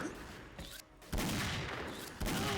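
Gunfire in the online shooter XSHOT, a dense burst of rapid shots that drops briefly and then resumes loud and close, with sharp onsets marking fresh volleys.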